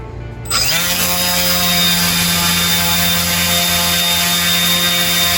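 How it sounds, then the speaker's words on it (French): A small quadcopter drone, a university student build, spins up and hovers with automatic altitude hold at about 30 cm, a steady loud whirring buzz with strong harmonic tones that holds constant after a sharp start. "le drone est monté automatiquement à la hauteur que nous lui avons donnée, 30 cm"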